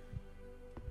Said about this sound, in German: Herzschlag ist immer noch.